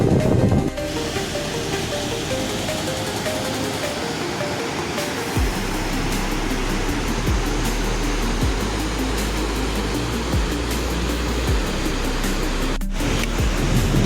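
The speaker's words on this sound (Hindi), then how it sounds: "पानी का शोर आप सुन रहे होंगे बेतहाशा" The Gaj river rushes loudly alongside the Kareri lake trail in the Himalayan foothills, a dense, unbroken roar of water that fills the whole stretch, close and steady, with no voices.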